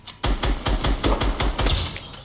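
Rapid automatic gunfire in a Fortnite match rattles out in a close, even burst of about eight loud shots, each sharp crack followed by a short tail, with no talking over it.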